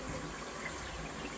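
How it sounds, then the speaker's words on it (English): Water rushes steadily through a Toto low-boy toilet as it flushes, a continuous close gushing wash with no voices over it. "Let me just flush it to get that out."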